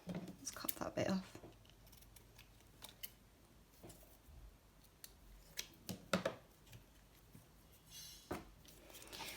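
Scissors snip through paper while a craft tag is made, a few sharp separate cuts close by, spread out with quiet gaps between them, and soft talking faintly in the background.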